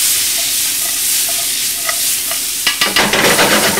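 Onions cooking in a pan for shrimp and grits, a loud continuous close sizzle, then several quick scraping stirs of a utensil against the pan toward the end, with nobody talking.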